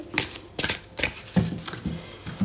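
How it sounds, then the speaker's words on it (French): Oracle cards shuffle and are drawn in several close papery riffles and slides, each burst of rustling and snapping followed by a short pause, with no voice over them. "On va tirer une carte"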